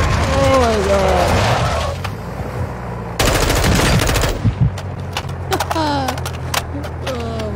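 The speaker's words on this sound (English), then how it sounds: "Someone else is shooting him now." Automatic gunfire rattles in a video game, with one dense burst in the middle and scattered shots around it, while someone talks over much of the action.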